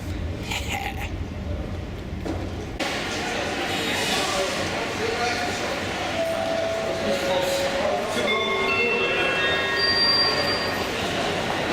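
A train heading to Cologne rumbles steadily along the rails, with wheels squealing in high, drawn-out tones over the constant low roar of the carriage.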